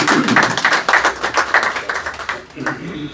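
Scattered clapping from a crowd patters irregularly, fairly close, with a voice mixed in under the claps.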